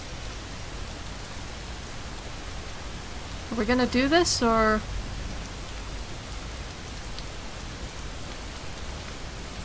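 Steady rain hisses across the whole scene in the video game Honorless, a cold, freezing downpour, with a voice briefly speaking partway through.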